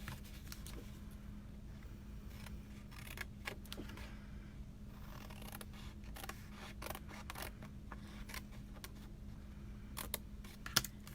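Scissors snip through paper while trimming along score lines in a card-making craft: quiet, close, irregular crisp cuts spaced over a low steady hum, with no talking.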